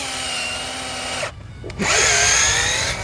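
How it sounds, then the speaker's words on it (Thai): A power drill bores into the dark heartwood of a Huang Hua Li (rosewood) log, whining steadily, stalling briefly in a short pause, then biting back in at full loudness close by. "อ่าเดี๋ยวผมเจาะให้ดูเพิ่ม"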